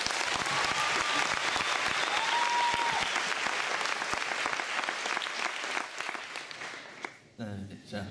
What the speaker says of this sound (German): Applaus bitte für Renato Kaiser.